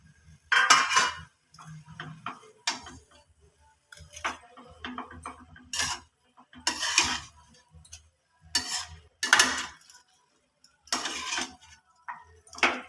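Cabbage, fish head and fried potatoes stirred together in a pan, metal utensil clinking and scraping against the pan in repeated short bursts with pauses between, close and fairly quiet.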